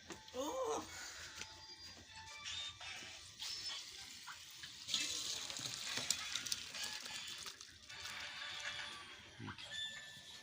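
Potatoes fry in a home kitchen pan, giving a low, uneven sizzle mixed with stirring clatter and occasional splashing water, all fairly quiet.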